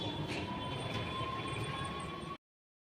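A train at Sealdah station in Kolkata rumbles steadily nearby, with a low continuous roar and faint tonal whine from the wheels and cars, holding level before cutting off abruptly.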